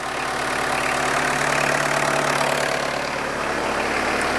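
A repaired Renault 9 car engine runs at a steady idle, a constant close mid-low hum with a slight knocking texture, continuous and alone for the whole stretch.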